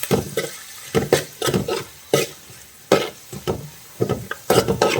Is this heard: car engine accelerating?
no